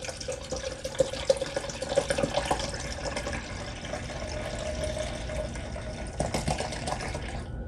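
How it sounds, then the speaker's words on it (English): Soy milk being poured into a container for making soy yogurt, a steady liquid stream running for several seconds at close range, with no voices. "So I'm going to add about half of the soy milk."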